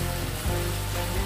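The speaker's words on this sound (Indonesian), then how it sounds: "Masukkan bumbu halusnya. Tumis sampai keluar aroma wanginya." Ground spice paste sizzling and frying in a pan for Indonesian opor ayam, a continuous close, bright hiss with low bubbling underneath and no talking.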